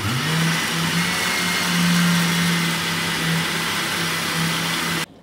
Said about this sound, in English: Now we're going to blend it for the last time.